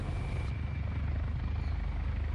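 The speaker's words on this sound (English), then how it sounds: "Is that helicopter the one who hit me?" A helicopter in the video game War Thunder drones steadily with a thudding rotor beat and a broad engine whine, continuous and fairly close, no voices.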